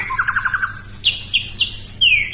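A young white-rumped shama chirps: a quick run of short, bright notes, then a few higher, sharper calls, close by and clear.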